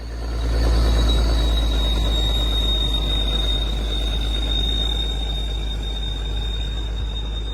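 Freight train carrying sugar cane rolling past with a deep continuous rumble and a sustained high wheel squeal running throughout, loud and close.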